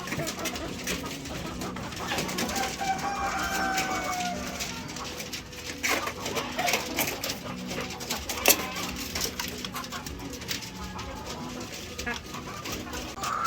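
Laying hens, white leghorns crossed with black birds, cluck and coo softly around a farm, their calls scattered amid busy background noise and a voice speaking at times.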